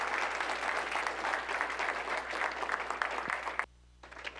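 A lecture audience applauds a guest speaker after a presentation at a conference on race and identity, dense sustained clapping that suddenly cuts off near the end and then resumes faintly.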